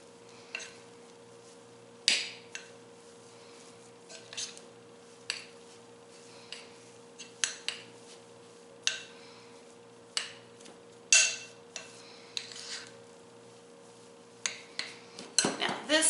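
Spoon mixing frosting into crumbled cake in a bowl, a series of sharp scraping clinks against the bowl at an irregular pace, close and fairly quiet over a steady low hum.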